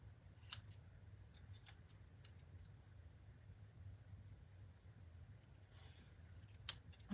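Scissors trimming small paper card pieces at close range, a few faint crisp snips over a quiet hum, with a sharper cut near the end.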